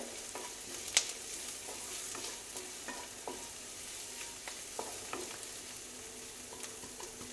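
Grated garlic stirred into hot oil in a pan over a lowered gas flame, a soft steady sizzle broken by light scraping stirs, with no talking.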